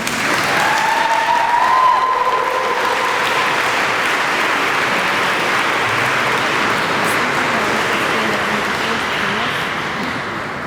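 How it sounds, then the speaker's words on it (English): An audience at an Asian Heritage Day celebration gives a sustained round of applause, a dense, loud wash of clapping that holds steady for about ten seconds before easing slightly toward the end. "Please give them a round of applause."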